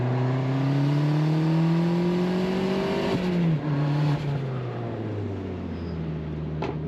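A turbocharged Mazda Miata ND revs hard while accelerating through low gears, the engine note climbing steadily, dipping at a shift around the midpoint, then pulling again, loud and close.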